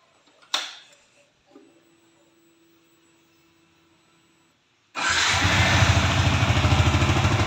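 A Fixon motorcycle engine cranks and catches around five seconds in, then settles into a loud, steady, close idle with a throbbing low rumble after a quiet stretch broken by a single knock and a faint tone.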